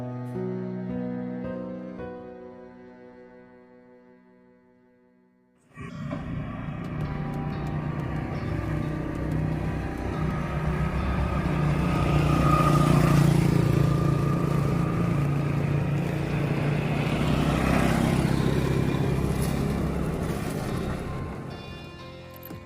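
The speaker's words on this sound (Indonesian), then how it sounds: "Itu kan mobil Om." A car engine rises abruptly after a quiet lull, idling and revving as the vehicle passes nearby, building to a loud, sustained mid-pitched drone and then easing slightly toward the end.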